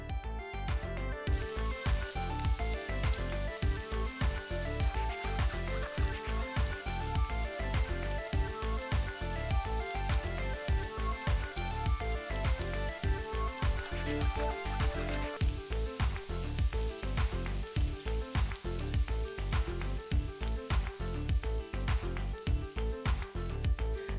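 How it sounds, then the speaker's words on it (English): Marinated fish fillets fry in hot oil in a pan, giving a loud, steady sizzle with dense crackling pops throughout, close up and without any talk. "And once the oil gets hot, we'll start grilling the fish."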